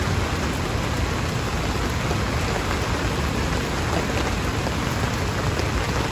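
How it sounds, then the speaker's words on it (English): Heavy pouring rain falls steadily outdoors in a dense, constant wash of drops over six seconds, loud and close, alone with no talk, during outdoor cooking of curried cauliflower. "Luckily for us, it's pouring rain, so we're just gonna leave them out in the rain."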